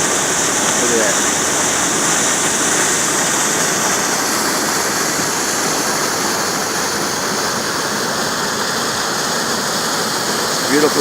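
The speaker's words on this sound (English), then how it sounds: "All the snow melt coming down, flowing into the quarry." Snow-melt waterfall pouring into a quarry at Harrington State Park: a loud, steady broadband rush of falling water that continues unbroken throughout.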